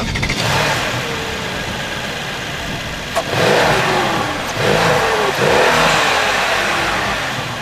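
A Mercedes-AMG C63 S turbocharged 4-litre engine revs hard several times, rising and falling in loud surges over a rumbling idle.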